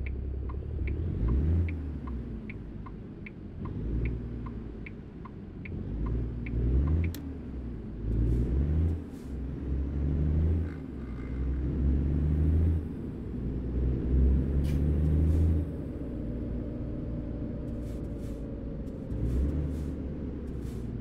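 Truck in the American Truck Simulator video game driving without a trailer, a low rumbling engine rising and falling with repeated acceleration, with faint ticking early on and occasional clicks.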